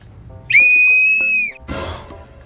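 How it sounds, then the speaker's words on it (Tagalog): A whistle blown once with a steady, shrill single note lasting about a second, loud and close, followed by a brief rustle; no talking. "Susubukan ko yung pito."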